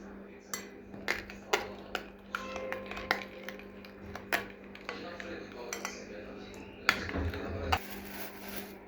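Utensil clinks and scrapes against a bowl while yogurt, flour and other ingredients for savory croissant dough are mixed, a steady run of light taps and knocks close by, with no talking.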